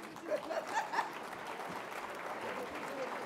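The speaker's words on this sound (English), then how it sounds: "Let's keep on clapping" Crowd applauding at an Irish community honors event, steady moderate clapping throughout with some chatter and light laughter mixed in.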